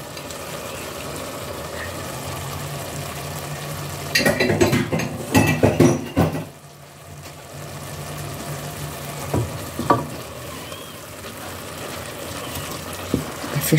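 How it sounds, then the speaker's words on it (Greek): Onion tipped into a pan of minced meat already frying, for baked pasta with mince: steady low sizzle throughout, broken by a burst of clattering and scraping in the middle and a few later utensil knocks against the pan. "Θα ρίξουμε το κρεμμύδι."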